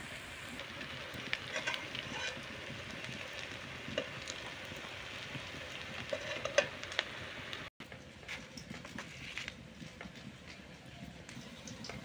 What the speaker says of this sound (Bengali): তো পাল্টা এপিট ওপিট করে আমি ভেজে নিচ্ছি ভালো করে